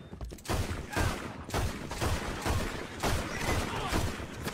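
Rapid gunfire rattles through a Red Dead roleplay game, a dense, loud, unbroken volley that continues to the end of the clip.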